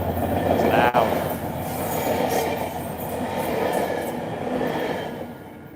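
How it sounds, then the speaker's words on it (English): A loud train rumbles past close by near a beach pier, a steady heavy roar of rail cars lasting throughout with a sharp clack near the start. "that's a loud train, guys"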